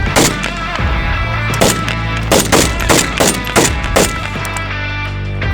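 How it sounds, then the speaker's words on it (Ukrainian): A series of loud, separate single-shot rifle shots cracks out one after another at an uneven pace over a constant rumbling background, during military training. "одиночними пострілами вогонь, вогонь!"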